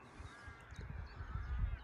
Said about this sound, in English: I can still hear those crows.